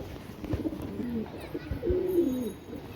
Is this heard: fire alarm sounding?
no